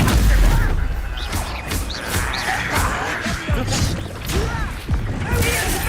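Bombarda blasting spell cast in Hogwarts Legacy combat, a series of sharp whooshing blasts and crashing impacts at irregular intervals over a busy, noisy battle backdrop.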